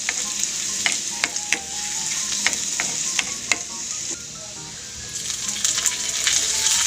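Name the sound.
garlic frying in pan with corned beef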